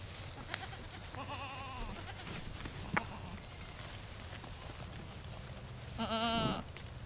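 Spanish and Kiko goats bleating out on pasture, with two clear bleats, one early and one louder near the end, over steady outdoor background noise and occasional soft thumps.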